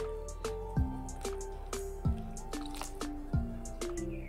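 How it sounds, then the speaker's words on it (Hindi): Water drips and squishes into gulab jamun dough made from dry milk powder, a few distinct drops and soft wet squelches in a quiet kitchen with no talking. "80 ml यानी कि 80 ml हम इसमें पानी ऐड करेंगे"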